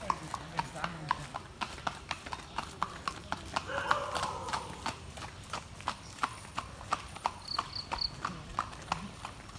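Horse hooves clip-clop in a steady, repeated rhythm at a horse farm, close and fairly loud, with a brief whinny partway through and people talking faintly in the background.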